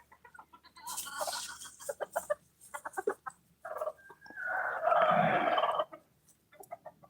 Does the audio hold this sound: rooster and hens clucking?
yes